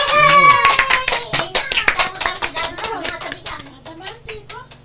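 Applause from a small audience in an Ilocano comedy drama, a burst of quick, close hand claps that starts loud and thins out over several seconds while children's voices chatter underneath.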